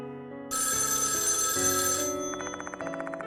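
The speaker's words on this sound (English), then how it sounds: "Except the phone doesn't stop ringing." Telephone ringing in the horror video game Death Mark 2 at a mansion late at night, a loud, continuous electronic bell that rings steadily over a low ambient music bed, with no voices.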